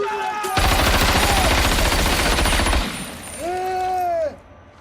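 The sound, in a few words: gunfire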